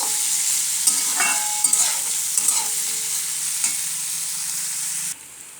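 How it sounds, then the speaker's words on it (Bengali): Chopped potatoes frying in a pan give a steady, close sizzle with occasional stirring scrapes, then the sound drops off abruptly near the end. "কুচানো আলু, ভালো করে আমি ভেজে নেব আলুটা"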